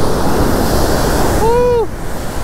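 Ocean surf pounding the shore at a fishing spot, a loud continuous wash of breaking waves with a brief whistling tone rising through it near the end.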